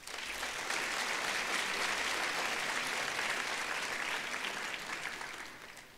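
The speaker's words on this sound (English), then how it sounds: "who deserve a round of applause" Sustained applause from a large graduation ceremony audience, a dense steady wash of clapping holding strong for about six seconds before easing slightly at the end, with no voices.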